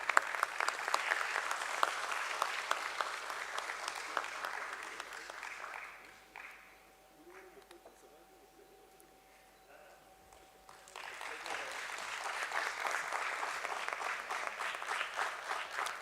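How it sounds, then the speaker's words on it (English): An audience applauds at a stock exchange listing ceremony for Gala Precision Engineering at BSE: dense clapping dies away into a quiet pause with a faint tone, then a second burst of sustained applause. "Let's have a round of applause,"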